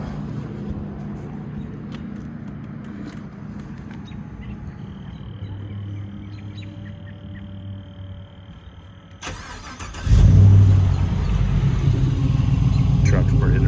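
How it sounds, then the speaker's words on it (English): An LS3 V8 swapped into a third-generation Toyota Tacoma with an MBRP 3-inch exhaust fires up after quiet idle-free moments, a sudden loud crank and catch followed by a deep, steady rumbling idle close by. "Let me do a little startup so you can hear it."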